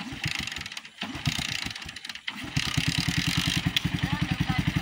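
A motorcycle engine is kicked over and then revs steadily with a rapid, throbbing pulse as it is ridden, with a short break before it fires up again, while people talk and shout over it.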